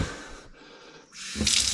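A tap running weakly from low water pressure, a thin hissing trickle that fades for a moment, then returns louder with splashing, close by.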